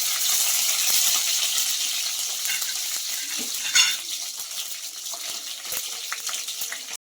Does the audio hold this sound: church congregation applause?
no